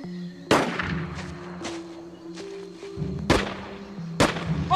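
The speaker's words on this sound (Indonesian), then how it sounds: "Lalu mereka langsung berubah siaga ketika mendengar suara tembakan." Several sharp gunshots crack out one at a time at irregular intervals on a remote island after a plane crash, standing out loud and close against a quiet background tone.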